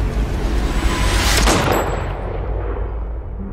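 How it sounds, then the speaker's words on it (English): A single loud gunshot rings out in a horror game trailer, a sharp metallic crack followed by a long ringing decay that fades over several seconds. "And then the gunshot."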